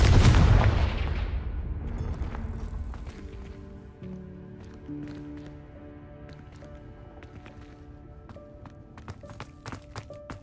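A Confringo fire-blast spell from the Hogwarts Legacy video game explodes in a loud, deep, booming burst at the start, then fades slowly beneath sustained game music tones, with a few sharp clicks and impacts scattered later.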